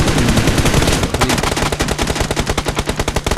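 Loud, rapid automatic gunfire in a video game as shots go through a wall, a dense stream of close bursts filling the whole stretch with no talk.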